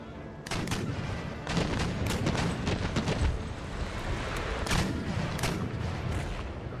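A naval cannon broadside in Empire: Total War fires as a rolling volley of sharp booming shots, irregular and layered, some near and some distant, over a steady rumble of battle.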